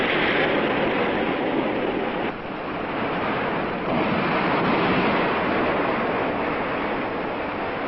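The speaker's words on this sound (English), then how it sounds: "From deep within the Pacific, gigantic walls of water march into the bay." Large Pacific ocean waves break in a bay, making a loud, continuous roar of surf and churning water with no gaps and no voices.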